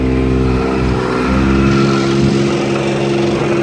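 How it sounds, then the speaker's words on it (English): A Kubota pony motor runs steadily on a forestry bucket truck, a loud, continuous low engine drone with a constant even hum and no pauses or talk. "We're operating on the Kubota pony motor right now."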